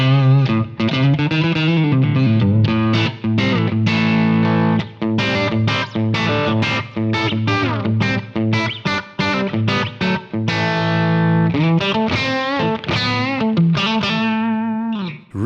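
A Kemper profile of a Dr. Z amp pushed into higher gain carries an electric guitar recorded direct through busy distorted riffs and sustained notes, loud and steady with no one talking.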